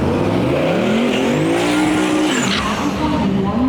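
A turbo LS-powered Datsun drag car makes its second run at a Miles of Mayhem event: a loud, sustained engine roar with rising turbo whine and a tire squeal, heard close.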